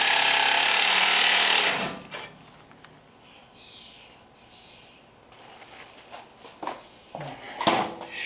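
A power tool cuts a piece out of the exhaust on a 1934 Ford Tudor hot rod with a loud, harsh burst lasting about two seconds, followed by quieter scattered metallic clanks and knocks.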